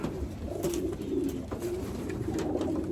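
Pigeons in a racing loft coo steadily and close by, their low rolling calls overlapping with soft rustling and faint wing movement.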